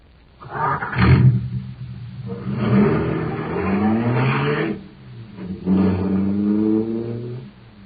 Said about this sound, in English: that cosmic surface car is really roaring